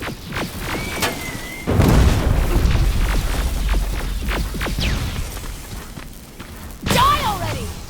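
Grenade explosions in the shooter game Terminator Resistance, several booming blasts and thuds landing in quick succession, loud and close, with short bursts of combat noise between them.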